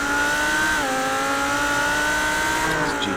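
GT3 race car engine screaming at high rpm around the Nürburgring in the iRacing sim, a steady loud drone that drops in pitch briefly on a shift or lift, then holds, with faint tire scrub.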